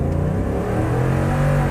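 A stock Ford F-150 pickup with a 5.0 Coyote V8, in four-wheel drive and sport mode, accelerates hard with a loud, steady, rising engine roar heard from inside the cab, with no talk.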